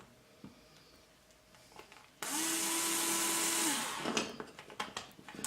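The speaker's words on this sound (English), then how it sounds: "we're drilling a pilot hole, so we'll have a 1/16 inch bit" An electric drill with a 1/16 inch bit bores a pilot hole during a 380 quadcopter frame build. After faint handling clicks, the motor kicks in loud and whining for about two seconds, then winds down through rattling and knocking.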